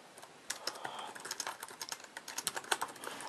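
A password being typed slowly on the keyboard of a 2011 MacBook Pro laptop: a quiet, close run of uneven key clicks that grows denser and louder partway through, with no talking.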